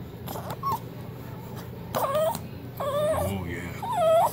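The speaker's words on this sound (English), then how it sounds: "Good dog." A puppy's high, wavering whimpers come in short rising-and-falling cries, several of them across the stretch, close by over a faint background hum.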